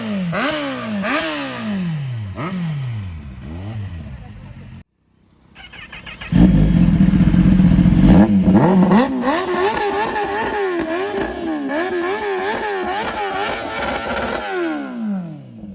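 Aftermarket exhaust on a big sport motorcycle such as a Suzuki GSX-S1000 or Kawasaki Z900, revved hard in repeated rising-and-falling blips, then a brief pause and a louder, sustained run of loud nearby revs.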